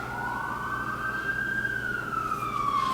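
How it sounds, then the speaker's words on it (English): An ambulance siren passes by outdoors, a single rising and falling wail that swells louder, then bends downward in pitch as it moves past over a low traffic rumble. "there goes an ambulance"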